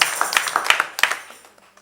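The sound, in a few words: congregation clapping to acclaim the Lord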